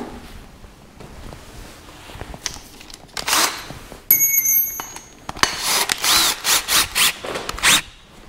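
An electric drill on its lowest speed setting (0–500 rpm), fitted with a whisk, mixes two-part epoxy in a tub for coating garage walls and ceiling. It whirs in short bursts, then quick, rhythmic spins, close and fairly loud.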